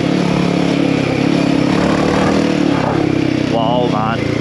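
A Himalayan 450 Rally motorcycle engine on a trail ride with performance upgrades, droning steadily and loud throughout, with a voice speaking over it near the end.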